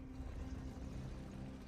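Motorcycle being worked on nearby gives off a steady low engine-like drone, faint and continuous in the background, with no voices over it.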